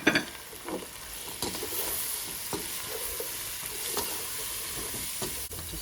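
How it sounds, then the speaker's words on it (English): Spices, onions and tomatoes sizzle in a frying pan for Punjabi aloo gobi while a spoon stirs through them, scraping the pan in several separate strokes over a steady close-up fry, with no voices. "Just give it a good stir."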